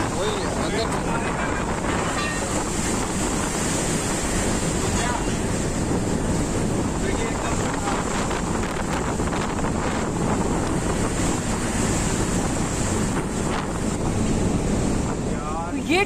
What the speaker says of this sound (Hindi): इस वीडियो में आप देख सकते हैं लहरें किस तरीके से टगबोट को डुबाने पर आमादा हैं।